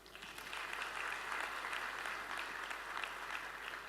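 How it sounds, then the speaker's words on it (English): Audience applause at a regional sustainable energy conference, a steady wash of clapping from a large hall crowd that swells in and holds for four seconds at moderate distance. "we now welcome that applause."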